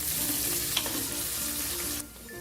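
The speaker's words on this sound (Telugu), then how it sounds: "ఉల్లిపాయ ముక్కలు కొద్దిగా వేగిన తర్వాత ఇవి ఇందులో వేసేసుకోవాలి" Chopped onion pieces and three slit green chillies fry in hot oil with a steady, close sizzle that drops to a quieter hiss near the end.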